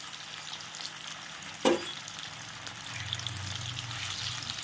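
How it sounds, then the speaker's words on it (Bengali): Turmeric- and salt-coated potatoes fry in oil in a pan, a steady soft sizzle throughout with a brief sharp clatter of stirring partway and a slightly louder bubbling toward the end. "এবার সুন্দর করে একটু ভালো করে কড়া করে ভেজে নেব।"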